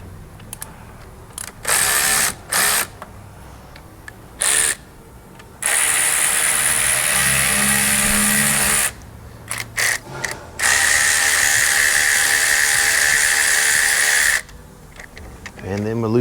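A power tool rattles in repeated bursts of varying length as it loosens the AC compressor belt bolt, loud and close, with quiet gaps between the runs.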